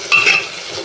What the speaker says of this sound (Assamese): বিলাহী অকণমান দি ভাজি লওঁ